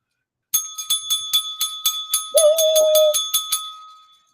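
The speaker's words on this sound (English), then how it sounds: "we get to ring a bell in your Ooh. honor. So here's a bell." A bell rings in quick, even strikes about a dozen times, its tone ringing on, while a brief whistled note sounds partway through.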